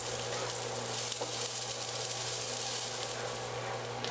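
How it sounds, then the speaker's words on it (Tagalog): Garlic and onion sauté in a pan for kangkong in oyster sauce with bacon, giving a steady, fairly soft sizzle that stays even throughout. "Then, magigisa tayo ng garlic. Then, sunod natin yung onion."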